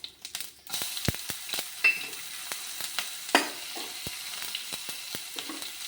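Green chilies fry in oil for rice dal upma, giving a soft, steady sizzle close by. Sharp clinks and scrapes of stirring break in now and then.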